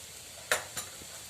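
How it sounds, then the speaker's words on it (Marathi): Onion, green chili and garlic sautéing in a pan for a leafy-vegetable tiffin dish: a faint, soft sizzle broken by two sharp, close clinks of a spoon against the pan. "मी आता परतून घेते आता आपला कांदा मिरची लसूण छान परतले गेलं आहे"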